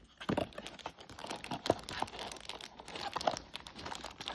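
Plastic bag from a Pop Mart Teletubbies companion figure box crinkling and rustling up close, with irregular bursts of crackles and soft tearing-like rasps running throughout, no talking.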